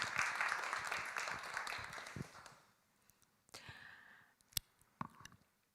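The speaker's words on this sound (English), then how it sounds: "Applause, applause." Applause at a conference panel discussion on Ukraine, a moderate crowd clapping that tapers off after two to three seconds, leaving quiet room noise with a few scattered clicks and shuffles.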